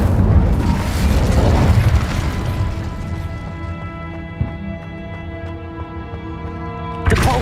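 A fire spell cast in the Hogwarts Legacy video game erupts with a loud, roaring burst that fades into a long crackling, ringing tail, with a sharp pop midway and a second burst at the end.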